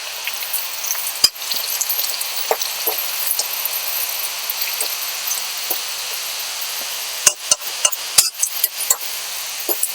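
Tomato with cucumber and eggplant frying in a pan for a chutney, giving a steady bright sizzle throughout, broken by occasional sharp clinks of a utensil against the pan.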